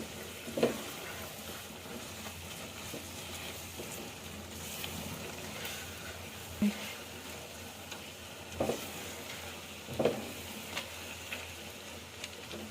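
Soft, steady sizzling of aloe vera halwa frying in ghee and sugar syrup in a pan, broken by occasional scraping strokes of a spoon stirring.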